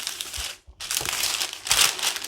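Baking paper crinkles and rustles as it is handled over custard biscuit dough, close and fairly loud, with a brief silent gap partway through before the crumpling resumes.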